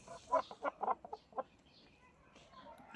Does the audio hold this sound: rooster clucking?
yes